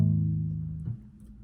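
Dull, palm-muted guitar strings ring low and damped, fading quickly with a soft thud near the end, no voice present.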